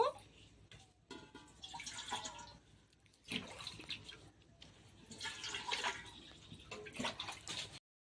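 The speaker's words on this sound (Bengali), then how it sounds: "এটাতে মোমোটা স্টিম করব, জল দিয়ে দেব।" Water poured into a pot for steaming vegetable momos, heard as close splashing and trickling bursts that swell and fade in several pours before cutting off.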